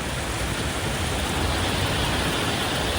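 Steady, dense rain pouring down at a Kuala Lumpur metro station with a constant broadband wash; any passing metro train is buried beneath the downpour.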